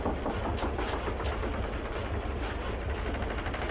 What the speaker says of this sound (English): It's old, but the engine's got power.